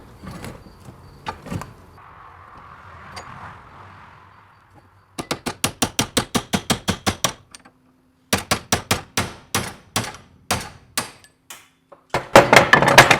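A chisel works internal snap rings out of a John Deere 640 U-joint, giving bursts of rapid, sharp metallic taps in quick runs separated by short pauses, close and loud.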